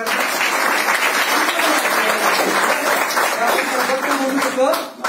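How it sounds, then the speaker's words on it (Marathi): A seminar audience breaks into loud, sustained applause, a thick wash of many hands clapping that holds steady before tapering off at the end. "तिथे टाळी जोरदार"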